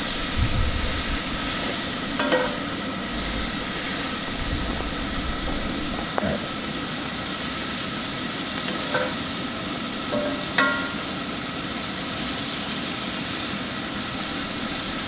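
Chicken fajita vegetables cooking in a pan outdoors near a conservation area, giving a steady broad hissing sizzle with a few faint clicks and scrapes, continuous and even, with no speech.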